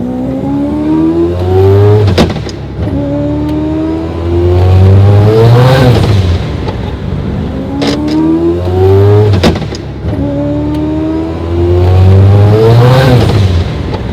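A 1150-horsepower four-rotor Mazda RX7 engine revs hard twice, each blip climbing in a rising, buzzing scream before dropping back to a rough idle, loud and close with no talking.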